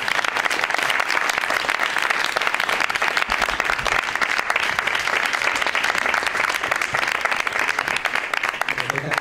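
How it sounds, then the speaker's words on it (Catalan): Audience at a Catalan forum event applauding steadily and loudly for the whole stretch, a dense wash of clapping with faint voices mixed in. "un aplaudiment"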